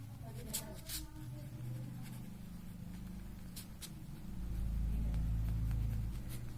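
Short scratchy strokes of writing on a board come in brief bursts over a steady low room hum.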